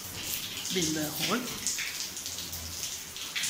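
Water dripping and splashing inside the Rhône Glacier ice cave, scattered drops falling close by in an echoing icy space while a person talks over it.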